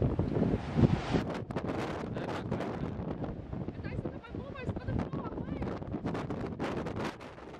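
Strong gusting wind by the ocean in southern Australia buffets the microphone in loud, rough rumbles, and a voice talks through part of it.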